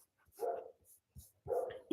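A dog barks twice from some distance away, two separate gruff barks with a short pause between them, against an otherwise quiet indoor background.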